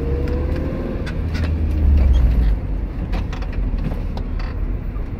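A UAZ 2206 van rolls along with a steady engine drone as the driver brakes and shifts down through the gears, a deeper engine swell rising briefly before easing back.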